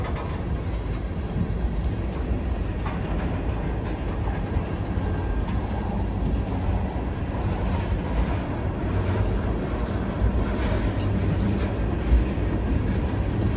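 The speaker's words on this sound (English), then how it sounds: "I think this train in front of me's got about 100 cars on it also." A long freight train of about 100 cars rolls steadily past on an elevated curve, a constant loud rumble of wheels on rails with faint clicks and squeals throughout.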